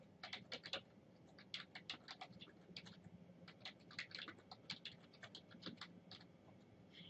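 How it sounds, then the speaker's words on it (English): Keys clatter on a computer keyboard in quick irregular bursts with short pauses, close and fairly quiet, while a document is typed in Microsoft Word; no one speaks. "Now I'm going to type the title of the document"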